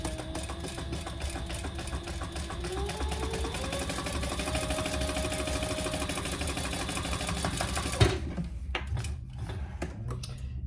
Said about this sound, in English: And I am going to top stitch this closed,